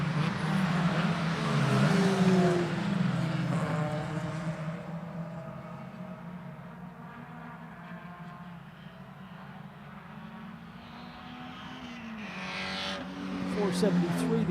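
Mazda Miata race cars at Lime Rock Park heading towards pit lane, engines droning and shifting pitch as they pass, loud at first then easing off before building again, with a commentator talking throughout.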